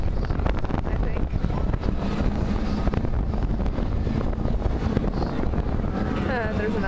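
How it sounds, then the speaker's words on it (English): Wind buffets the microphone on an amusement park sky ride, a constant low rumble and gusty roar throughout, with a voice talking faintly beneath it. "Ooh, and it's windy."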